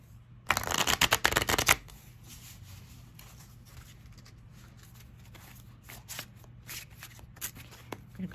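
Tarot cards are shuffled in one dense, loud riffling burst lasting about a second, then only scattered soft taps and card handling follow over a steady low hum.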